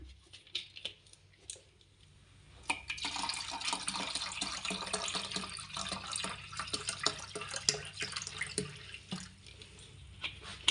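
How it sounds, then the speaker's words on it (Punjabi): Water is poured into a sweet homemade jaggery summer drink, giving a steady splashing trickle with small drips. The sound is quiet and close and runs for several seconds, following a brief handling noise. "ਆਪਾਂ ਪਾਣੀ ਐਡ ਕਰ ਲੈਂਦੇ ਆ"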